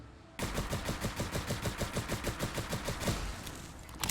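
Makeshift laser zap gun in the Fallout 4 video game fires on full auto, a steady rapid stream of about thirty sharp pulsing shots over roughly four seconds, loud and close with no talking.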